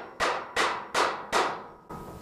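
Standing seam metal roofing panel for a tiny house struck into a homemade brake, four sharp, ringing metallic hammer blows in steady rhythm and then a fifth, each bright impact decaying quickly, close and loud.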